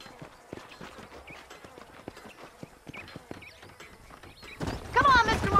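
Horse hooves clip-clopping in the Western game Red Dead Redemption, a steady rhythmic trot of hoofbeats at moderate distance, joined near the end by a louder swell of voices and other game sounds.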